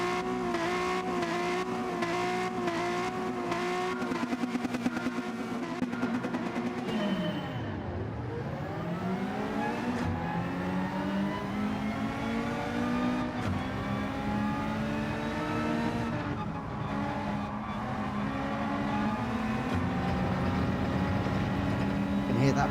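A BMW touring car engine in the racing game Gran Turismo 7, set in a British Touring Car Championship race: a continuous loud engine note rising and falling through gear changes, with a deep lift-off and re-acceleration midway.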